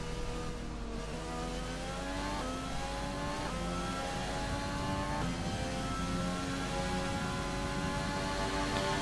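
Racing-game Formula 1 car engine entering the pits on worn tyres with heavy engine wear, a steady buzzing whine with gear-change steps in pitch, continuous and fairly loud, no talking.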